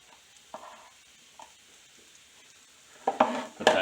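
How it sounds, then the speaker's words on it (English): Onions dropped into a pan over low heat give soft scattered scrapes and light sizzling, building into louder stirring and clattering of the pan near the end. "we're going to just drop our onions straight into this pan"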